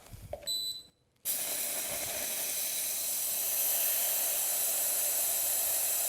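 A jet of steam bursts out with a loud, sustained hiss after a brief electronic beep and a short pause, continuing steadily and evenly to the end.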